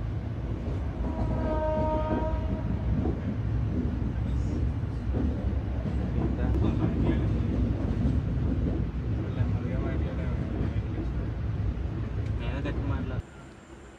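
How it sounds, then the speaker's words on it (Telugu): Continuous low rumble of a train rolling past nearby near Rayanapadu outside Vijayawada, heard from a halted train at the home signal, with a horn sounding early on and a voice speaking over the noise. "ఒక ట్రైన్ వెళ్తుంది విజయవాడలోకి"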